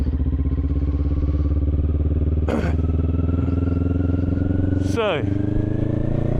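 A motorcycle engine holds second gear during a riding practice session, giving a steady, loud, even drone throughout, with two brief bursts of wind or clatter and someone talking over it.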